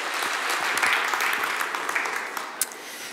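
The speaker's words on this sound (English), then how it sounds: "Big hand of applause for Miriam, who's been doing that all day." Conference audience applause at re:publica 2015, a steady roar of many hands clapping in a large hall, fairly even throughout with a few sharper claps standing out.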